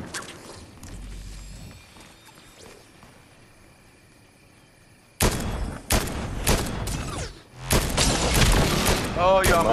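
Gunshots and bursts of gunfire in Fortnite, sporadic and distant at first, then loud close volleys in the second half, with people talking over them.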